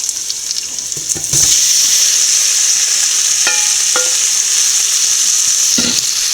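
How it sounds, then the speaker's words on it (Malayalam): Cassava pieces drop into hot oil with garam masala and sizzle steadily, with a few scraping stirs and clinks of the spoon against the pan. "കുറച്ച് ഗരം മസാല നല്ലപോലെ ഒന്ന് വഴറ്റിയതിന് ശേഷം അത് കപ്പ ഇട്ട് കൊടുക്കാം"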